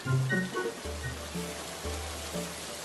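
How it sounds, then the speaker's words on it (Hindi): Heavy rain falls as a steady broadband wash, with a low rumble and a few brief tonal sounds over it, and no speech. "तभी बहुत तेज बारिश हुई और सब भीग गए।"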